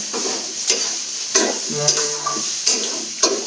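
Bitter gourd, karela bhaji, sizzles as it fries in a pan. A spatula scrapes and stirs through it in repeated strokes, sharp clatters rising over a steady frying hiss, and no one speaks.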